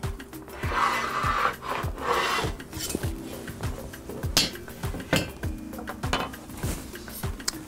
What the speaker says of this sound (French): Donc maintenant on va démouler notre russe et le faire glisser sur une planche